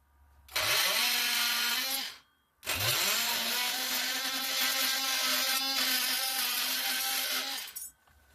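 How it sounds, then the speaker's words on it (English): Power saw blade cutting through sheet metal in two bursts, a short cut then a longer steady one, loud and close with a harsh whining screech, stopping cleanly between cuts. "we're going to go ahead and cut through this pretty quickly"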